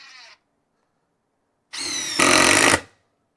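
A DeWALT DCF850 impact driver sinks a deck screw, a loud close whir that breaks into a rapid hammering impact rattle for about a second before stopping, with no talk.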